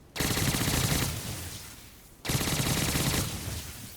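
Wicked Rifle MB150 firing in the Days Gone video game, two fast automatic bursts, each about two seconds, loud rapid rattling shots that fade with echo between them.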